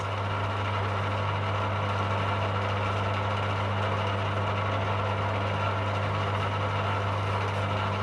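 A woodworking lathe in a school workshop runs continuously with a steady low motor hum and an even mechanical drone, unchanging and fairly loud throughout.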